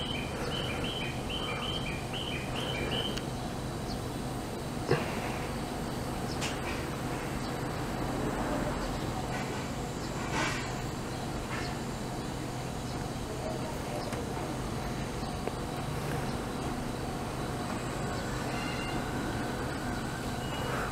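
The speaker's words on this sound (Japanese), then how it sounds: "あれ211系3000番台の回送電車通過のようですね。" A 211 series 3000 electric train, out of service, rumbles steadily through Ino Station on the Jōetsu Line at a distance, faint and continuous, with birds chirping and occasional voices in the background.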